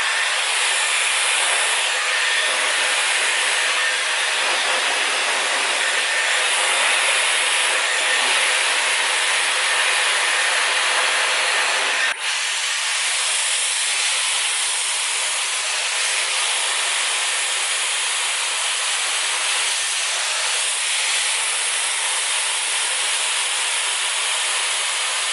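A Dyson Airwrap blows a loud, steady airflow while rough drying curly hair, a constant close hiss and whoosh that shifts slightly in tone midway and runs without talk.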